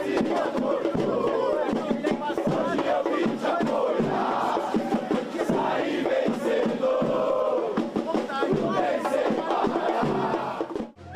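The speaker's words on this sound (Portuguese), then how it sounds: "Festa de 1h30 ininterrupta, ao som de voz e bateria da torcida palmeirense" Palmeiras supporters chant in unison to the beat of the fan section's drums, a dense, continuous roar of voices and percussion from a large crowd celebrating.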